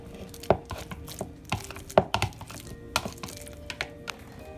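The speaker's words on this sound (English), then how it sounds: "but I'm still going to mash them." Two not-very-ripe bananas are mashed for an oatmeal base, producing quiet, irregular thuds and sharp taps of the utensil against the bowl, spaced unevenly with short pauses.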